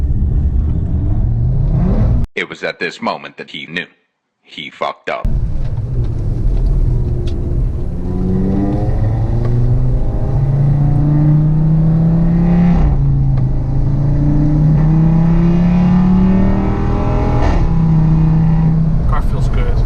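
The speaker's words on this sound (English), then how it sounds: "I'm hoping we're capturing the sound, the way the car feels, the way the car just launches and takes off" Stage 2 Audi RS3 running E85 fuel, accelerating hard: loud repeated rising engine sweeps through the gears, heard under a voice speaking over the top.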